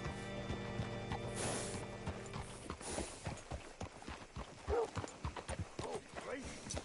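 Horse hooves clop unevenly on a hard surface amid video game sound effects and creaking in Red Dead Redemption 2, with a voice speaking over them.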